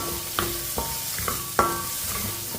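Chopped shallots are sautéed in a pan for a weight-loss soup, with a soft sizzle under a few distinct spatula scrapes and taps about every half second.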